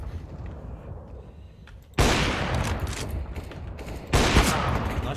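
Counter-Strike gunfire on Dust 2: a quieter stretch of distant shots gives way to two sudden loud bursts of close, rapid rifle fire, dense and sustained, with no talking.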